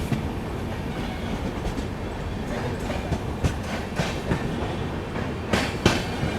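The 12487 Jogbani–Anand Vihar Seemanchal Express runs through Ara Junction, its wheels beating a steady clickety-clack over the rail joints, with a dense rolling rumble and sharper clanks near the end.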